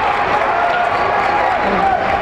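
Steady crowd cheering and noise fills a gym at a boys' Class B high school basketball final between NCCS and Saranac, a dense, continuous roar with no clear breaks.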